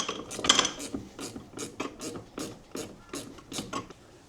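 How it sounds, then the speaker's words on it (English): A ratchet fitted with a 6mm Allen key head turns a trim-ring bolt on a Sea-Doo Spark jet ski, giving a run of rhythmic clicking pawl strokes, close and fairly loud. "I use this little ratchet with a 6mm Allen key head on it"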